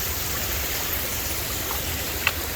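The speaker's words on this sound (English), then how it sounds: "you get them pretty little waterfalls" Water rushes in a steady, broadband wash from small rain-fed waterfalls pouring nearby on the Ozark Highlands Trail, with one faint click near the end and no voices.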